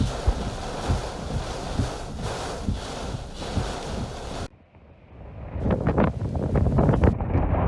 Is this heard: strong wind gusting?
yes